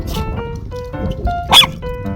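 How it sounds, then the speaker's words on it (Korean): A small dog gives several sharp, yappy barks in quick succession, close by, with brief gaps between them; a person talks intermittently over the barking. "꼭 상대보다 한 번더 짖어야 직성이 풀려요"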